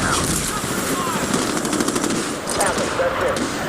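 Automatic gunfire from a machine gun in the World War II shooter Medal of Honor, played as the British SAS, rattles loud and close in dense repeated bursts amid a busy battlefield mix.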